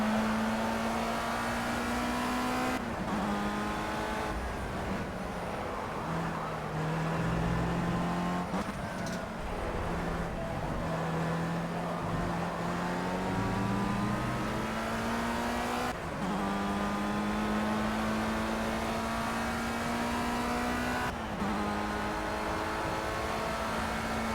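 A Formula Rookie race car engine in Project CARS drones and revs through the gears, its pitch climbing and dropping sharply at each shift over a long, steady, loud stretch with no talk.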